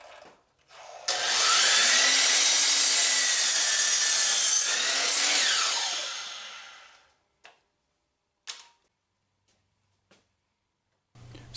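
A power saw trimming the edge of a new 2x6 wood board for a water wheel rim, one loud, steady cut lasting several seconds and then winding down, followed by a few short knocks and clatters.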